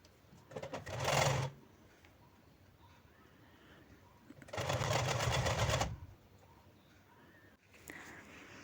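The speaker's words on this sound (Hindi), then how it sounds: "इसे उल्टी साइड से रखते हुए पहले चारों तरफ सिलाई लगा लेनी है।" Sewing machine stitching a 2.5 to 3 inch fabric border strip around a soft doormat made from scrap cloth, two loud whirring runs of about half a second and over a second, with quiet handling between.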